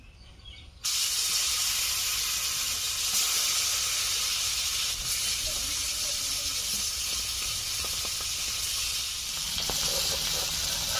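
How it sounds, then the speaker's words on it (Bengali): Remaining pieces of ritha fish fry in hot oil, a steady broad hiss and sizzle that starts abruptly after a brief quiet moment and holds at an even level throughout, close up with no talking. "এই তেলে বাদবাকি মাছগুলোকে ভেজে নিচ্ছি।"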